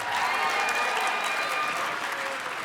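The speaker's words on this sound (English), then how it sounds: "Big round of applause for Spencer." A live audience gives a big round of applause for a volunteer named Spencer: thick, steady clapping at a consistent level that tapers slightly near the end.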